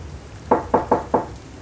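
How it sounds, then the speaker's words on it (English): Four firm, evenly spaced knocks land on a motel door, close and distinct against a quiet room. "There's a knock at exactly 8 o'clock."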